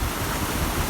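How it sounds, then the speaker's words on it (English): Storm waves washing over the top of a jetty in wet, stormy Western Australian weather, a loud, close, continuous roar of surging water mixed with wind buffeting. "the waves are going solid at my feet. It's pretty wet out there. It's going over the top of the jetty."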